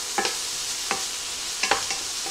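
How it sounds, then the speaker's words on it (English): Onions soften in a hot pan, a faint steady sizzle broken by a few sharp scrapes and taps of a utensil stirring them. "And we're gonna soften these onions down."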